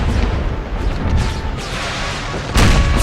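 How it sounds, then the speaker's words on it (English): Gunfire and artillery rumble from an American Civil War battle video game, a dense, loud, continuous barrage of booms and shots with a heavier blast near the end. "We're just being absolutely hammered by their guns."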